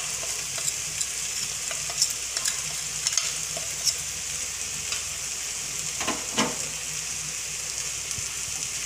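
Ginger paste and spices sizzle steadily in a pan for an egg masala curry, with scattered scraping stir strokes and a few sharper clinks against the pan. The sound runs close and moderately loud, with no talking.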